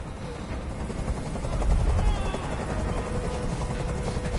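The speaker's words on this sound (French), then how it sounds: "Je peux plus supporter ce bruit. Et j'avoue que moi non plus. Fais dégager cet hélicoptère, maintenant." A helicopter in the video game Detroit: Become Human drones steadily with low rotor thumping, loud and continuous throughout, swelling slightly partway through.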